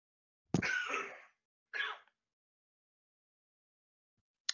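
Two quiet coughs or hacking bursts from a single person, close by, separated by a pause and followed by long silence, then a sharp brief sound at the very end.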